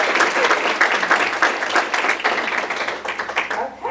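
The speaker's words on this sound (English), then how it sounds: "Let's give them a big round of applause" Steady applause from an audience at a county political candidate forum in Alabama fills the room, dense clapping that holds for several seconds and tapers slightly at the end.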